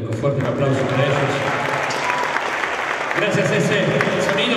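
Theatre audience applauding the technical crew at a tribute concert in a municipal theatre, a dense steady wash of clapping with cheering and voices mixed in, loud and sustained throughout.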